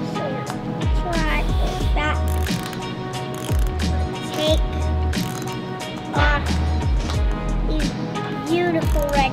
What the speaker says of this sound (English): I need to take my socket wrench, take mini socket wrench, actually super small, and take off